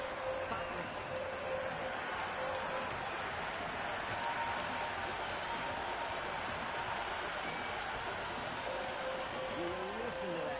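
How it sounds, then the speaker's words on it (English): A cricket stadium crowd in a video game roars in a dense, continuous wash of cheering and applause, steady throughout with a faint tone running beneath. "You listen to that crowd. They are loving this."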